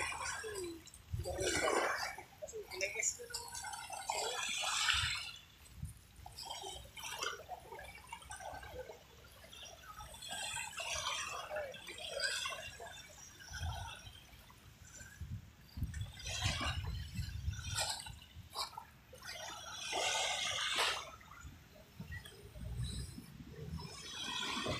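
Waves slapping against the seawall along Manila Bay, a continuous wet, splashing wash with repeated surges rising and falling throughout, close and fairly loud with no talk.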